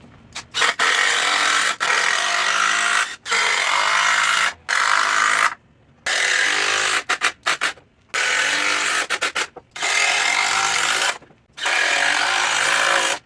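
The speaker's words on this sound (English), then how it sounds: "just drive a bunch of these screws to hold these planks together" A power drill driving screws into wooden planks, several loud bursts of whirring each a second or two long, separated by short silences, close by with no talking.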